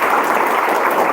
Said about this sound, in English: So you can clap for him.